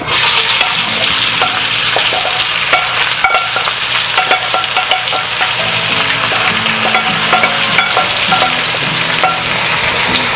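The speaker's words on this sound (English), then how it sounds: "we will fry the onion until it's golden brown" Onions fry loudly in about half a cup of hot oil, a dense continuous sizzle broken by occasional clinks and scrapes of stirring, with no voices.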